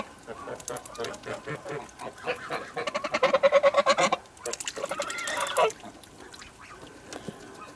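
Geese honk repeatedly at close range, with loud, rapid bursts of harsh calls clustering in the middle and quieter scattered honks before and after.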